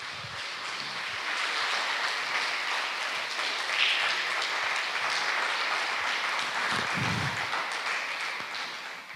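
Church congregation applauding together, a steady, dense wash of clapping that holds at an even level for the whole stretch, fairly close with no talk over it.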